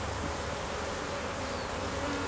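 Honeybees in a top bar hive nucleus give a steady, close, dense buzzing drone that holds level throughout with no voices.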